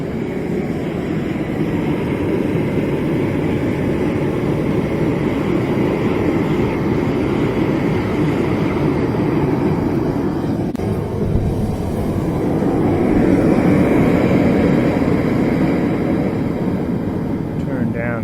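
A loud, steady roar of a home gas forge burner with pressure turned up runs continuously at close range, a broad rushing hiss that swells slightly near the end.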